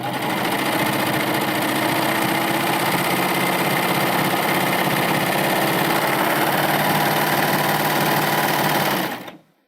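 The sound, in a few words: Baby Lock Euphoria cover stitch machine sewing fabric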